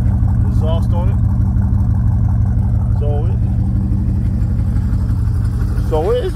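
A turbocharged Chevrolet Tahoe or GMC Yukon truck engine runs steadily at idle up close, a loud continuous low rumble, while someone talks over it now and then.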